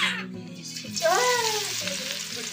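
Oil and garlic sizzling in a hot kadhai, a steady close frying hiss while someone talks and a voice briefly cuts in over it.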